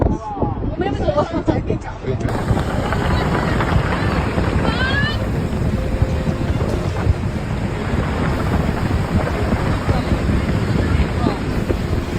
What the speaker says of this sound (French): De forts vents soufflent violemment.